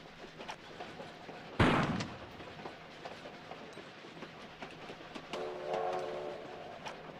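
A moving train in the video game Tomb Raider: The Last Revelation: a steady rumbling clatter, a sudden loud burst early on, and a sustained horn-like tone toward the end.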